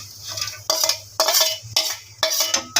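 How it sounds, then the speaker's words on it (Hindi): Chopped onions dropped into hot oil left over from frying okra (bhindi) give repeated short sizzling bursts at a steady pace, with light utensil clinks and stirring over a low steady hum. "अभी जो हमने भिंडी फ्राई की थी उसी ऑयल में हम प्याज ऐड कर देंगे।"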